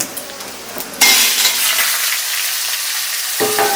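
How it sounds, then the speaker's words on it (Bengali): Vegetables dropped into a hot pan for Gobindobhog rice khichuri burst into a loud, steady sizzle after a few quiet clinks, frying hard throughout with a scrape of stirring near the end. "এবার দিয়ে দেব সবজিগুলো"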